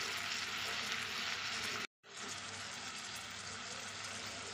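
Small potatoes with salt and ginger-garlic paste sizzle and fry steadily in a pan, a dense continuous crackle broken by one brief silent cut partway through.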